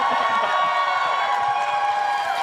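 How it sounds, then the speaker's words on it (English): Large audience at a Star Wars Celebration panel cheering and applauding, a dense, steady wash of clapping and whoops filling the whole moment. "Everybody applauding."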